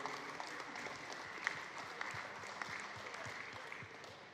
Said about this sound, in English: So please, a round of applause for all the sponsors.